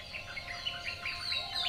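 Small birds chirp and tweet in a children's story scene, a run of quick repeated high chirps at moderate level over a soft steady background, with no voices.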